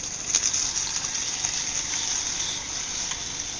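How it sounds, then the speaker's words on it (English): A stick of butter melts in a pan, giving a continuous soft, bright sizzle with faint crackles throughout. "The first thing we're going to do is melt a stick of butter in our pan."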